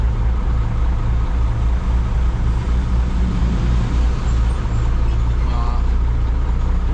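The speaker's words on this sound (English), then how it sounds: "we got quite a bit of traffic going on right now" Heavy road traffic rumbles past, trucks and cars roaring continuously close by, loud and steady throughout.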